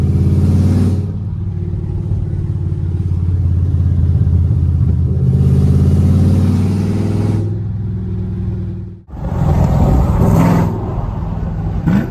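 Camaro SS with an LS3 V8 and open longtube headers, loud and close, holding a deep rumbling idle, rising into a rev, dropping off sharply, then firing back up with a harsh roar.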